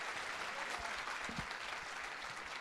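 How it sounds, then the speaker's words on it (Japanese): Crowd at Nagoya Grampus's 2016 season lineup presentation gives two players a round of applause, a soft, continuous wash of clapping heard from a distance with no voices. "2選手に今一度大きな拍手をお送りください。"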